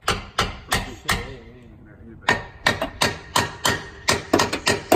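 Hammer blows on a Nismo solid differential bushing struck from the top during a car install, a series of sharp close metallic thuds in uneven bursts with a short pause, while people talk over them.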